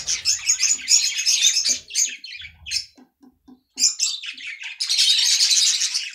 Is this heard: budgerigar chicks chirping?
yes